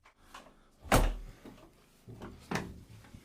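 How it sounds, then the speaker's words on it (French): A door in a woodland cabin shuts with one sharp, loud thud near the start, followed by quieter knocks and a second softer bump. "Ferme la porte."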